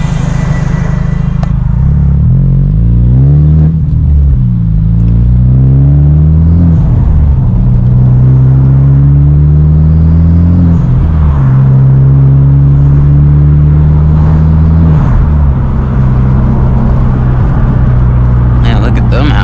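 A Hyundai Genesis Coupe 2.0T with a Tomei titanium exhaust revs repeatedly from inside the car, a loud deep drone rising and falling in pitch over several pulls while someone talks over it.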